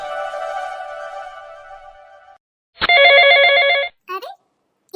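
Mobile phone ringing with an incoming call at home, a steady electronic ringtone, then a brighter trilling ring pattern and a short chirp, loud and close.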